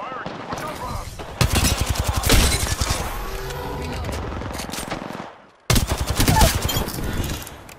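Automatic gunfire in the video game Apex Legends, two loud rapid bursts of shots with a brief quiet gap between them, mixed with other game sounds and some talk.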